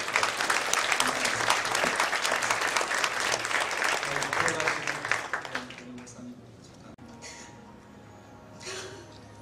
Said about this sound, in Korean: 우리 큰 박수로 우리 목사님 잠깐